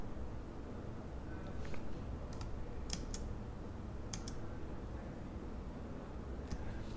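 A handful of faint, light keystrokes on a computer keyboard, scattered irregularly over a steady hiss, including a Shift plus Enter press.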